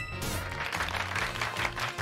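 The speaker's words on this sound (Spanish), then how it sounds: "Se ha ganado un merecido aplauso." Applause in the Pokémon Purple video game on Nintendo Switch: a dense, steady patter of clapping lasting about two seconds, moderately loud with no talk over it.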